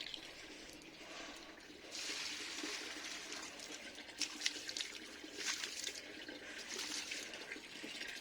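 Water poured onto potted plants on a rooftop, a soft splashing trickle that swells and fades in uneven bursts, fairly quiet and without talk.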